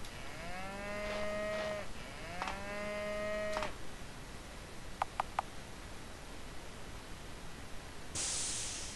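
A video game cow moos twice in long, drawn-out, clear calls, followed by a few quick clicks and a brief burst of hiss over quiet background noise.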